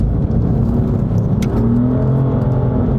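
A sports car engine revs up loudly and accelerates out of a drift on a track, its pitch climbing in a strong, close roar that carries through the whole moment.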